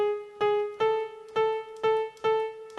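Single notes on a keyboard plucked one at a time, about seven clear tones in a steady rhythm, playing part 2 of a song close up with no voices.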